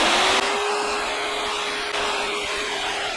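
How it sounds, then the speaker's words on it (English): An 8.5 amp electric grass trimmer switched to blower mode whirs with a steady, loud motor drone and airy rush of air, holding constant throughout with two brief dips. "Or if we go over to blower mode, don't really have a lot to blow here,"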